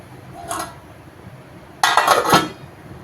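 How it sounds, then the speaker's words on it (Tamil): A brief metallic clink, then a louder clatter as a plate is set down over a simmering pot of drumstick prawn curry, rattling briefly. "தட்டை போட்டு மூடிவிடும்"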